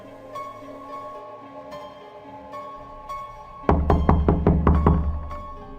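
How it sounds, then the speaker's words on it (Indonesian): Knocking on a bedroom door: a few scattered single knocks, then a loud rapid burst of about eight raps, close and resonant, over a steady tonal background with no speech. "Pintu kamar kembali diketuk."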